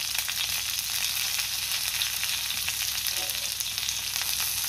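Green chillies, hand-torn into small pieces, fry in oil in a pan with a steady, bright sizzle that holds evenly throughout, no voices over it.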